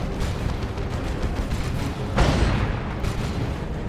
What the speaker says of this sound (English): That's the melt from the Melta Bomb.